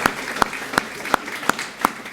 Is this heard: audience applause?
yes